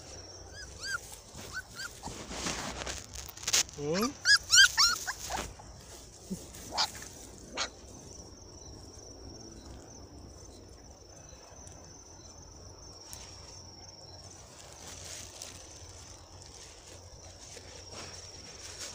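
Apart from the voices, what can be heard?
dogs barking and whimpering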